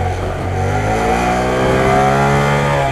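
A Honda Grom motorcycle engine revs hard and steadily up through first gear for a wheelie, a loud close buzzing drone that climbs in pitch and holds without a break and with no voices.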